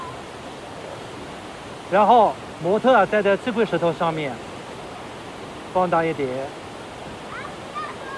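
Steady broadband rush of a waterfall at a rocky outdoor spot, constant throughout, with a voice speaking over it in several short bursts.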